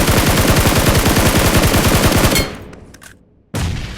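Automatic gunfire in the battle royale video game PUBG: a loud, rapid burst of shots for about two seconds, a brief quieter gap with faint clicks, then the firing starts again, no talking.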